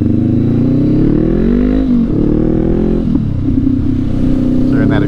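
A motorcycle engine rumbles loudly up close at a motorcycle show, its exhaust revving up and dropping back in throaty pulls, with a brief voice near the end.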